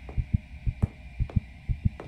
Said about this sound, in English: That heartbeat started going up,